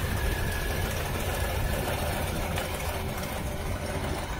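Car engine idling steadily during a vacuum-gauge test of the intake gaskets, a continuous close, even rumble with no pauses or voices.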